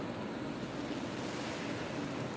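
Ocean waves surging steadily along a shore after dark, a continuous broadband wash of surf with wind noise buffeting the microphone, loud and close with no voices.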